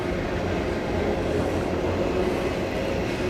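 A train passes down below near Mukilteo on Puget Sound, giving a steady, dense rumble with rail clatter that holds loud and constant throughout, no voices over it.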